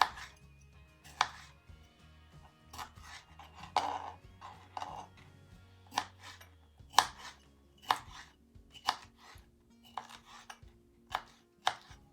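A knife chops peaches on a cutting board for a peach cream cake, giving a steady series of close, sharp knocks at irregular intervals, about a dozen in all, over a quiet background.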